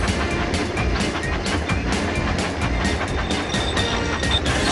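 A toy train engine rattles along its tracks in a Thomas & Friends game, a loud, steady rhythmic clatter of wheels running continuously with no voices.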